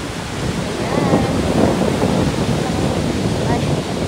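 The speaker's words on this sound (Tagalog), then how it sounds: "Ay, lakas ang lakas ng alon. Ang lakas ng hampas." Strong ocean waves crash on the beach at Limliwa Beach Resort in a loud, continuous roar, with wind buffeting close to the microphone.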